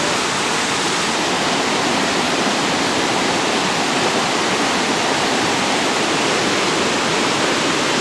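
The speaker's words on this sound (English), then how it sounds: "To us, this is just a small waterfall" Small waterfall in Israel pouring steadily, a close, even hiss and rush of falling water that stays constant and fairly loud throughout, with no voices.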